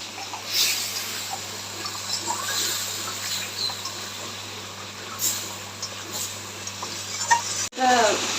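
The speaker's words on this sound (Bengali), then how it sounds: "এবার এটা ভালো করে কষাবো খুব ভালো করে কষাবো" Washed spice paste is sautéed and stirred in a pan for an egg curry, with soft sizzling and scraping strokes of a spatula in an uneven rhythm, close and fairly quiet, with a sharp clatter near the end.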